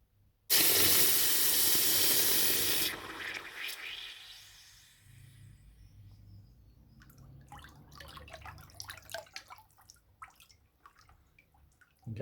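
Hot cast bronze, a copper and tin alloy, plunges into water with a loud, bright hissing burst lasting a couple of seconds, then fades into softer bubbling, sizzling and small drips with faint movement.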